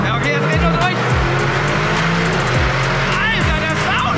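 An Aston Martin accelerates hard with tires squealing, the engine roaring loud and close as revs climb and drop through shifts, sharp squeals cutting over the steady engine note with no break.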